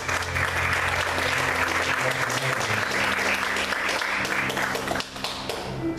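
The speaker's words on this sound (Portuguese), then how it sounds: "Vamos aplaudir o Senhor com bastante alegria." A church congregation claps together in sustained, dense applause throughout, loud and steady, with a low musical hum beneath and the clapping thinning slightly near the end.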